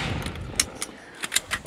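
Several sharp gunshots crack out at a shooting range during a competition stage, spaced irregularly and fairly distant over broad background noise.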